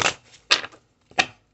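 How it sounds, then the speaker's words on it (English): Kipper oracle cards are shuffled in three quick riffling bursts, each a short papery flutter, close and fairly loud with brief pauses between, and no talking. "I'm going to shuffle the cards a few times."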